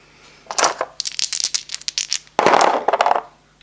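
Three attack dice clatter and tumble across a hard surface in two quick bursts of rattling clicks, close by, with no talking.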